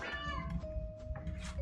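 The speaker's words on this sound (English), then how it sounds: "That's one of my cats making noise right now." A house cat meows repeatedly close by, a drawn-out whining call that wavers in pitch, while it waits for dinner indoors.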